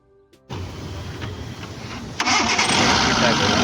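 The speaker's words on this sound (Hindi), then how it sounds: "इसके बाद आपको गाड़ी स्टार्ट कर लेनी है।" Car engine cranks and fires up after an AC gas refill, settling into a loud steady idle close by, with a louder surge near the end.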